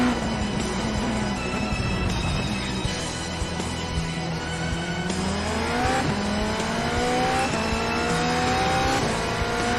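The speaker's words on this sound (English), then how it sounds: "Need to let the engine rev out a little bit more." An IMSA GTE race car in the iRacing sim at the Red Bull Ring, its engine revving loud and steady throughout with rising pitch sweeps through the gears and a faint tire squeal, with no talk over it.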